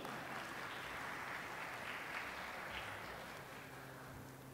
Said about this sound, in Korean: 여러분들의 뜨거운 박수로 모시겠습니다